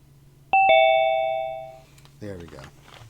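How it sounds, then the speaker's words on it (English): A Zoom join chime rings like a two-tone doorbell, a clear ding-dong that fades slowly. A voice follows briefly near the end. "I hear the doorbell ringing in my ear."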